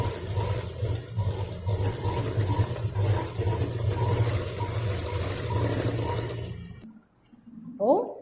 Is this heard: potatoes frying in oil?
no